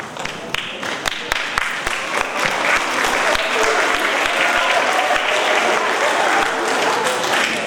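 Hearty clapping from a school assembly audience at a Hispanic Heritage gathering, starting with a few sharp, distinct claps and swelling into steady, close applause that fills the room, with no speech over it.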